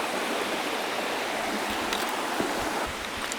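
A river flowing right in front of a tent at a campsite in Gentilly regional park makes a steady, full rushing wash that fills the whole moment, with a few faint knocks near the end and no voices.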